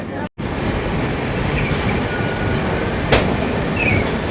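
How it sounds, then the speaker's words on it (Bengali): A Bikaner Duronto Express train pulls out of Koderma Junction railway station, with a loud continuous rumble of rolling carriages, a brief screech of wheels, and a short dropout at the start, heard from on board. "কোদারমা রেলওয়ে স্টেশনে মাত্র ছাড়লো আমাদের"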